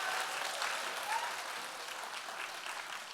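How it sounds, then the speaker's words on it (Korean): A church congregation applauds after a choir's song of praise, a wash of steady clapping heard from some distance, gradually thinning out and softening toward the end. "다시 한번 박수로 영광 돌리겠습니다"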